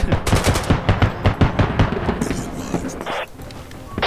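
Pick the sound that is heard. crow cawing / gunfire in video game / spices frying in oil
gunfire in video game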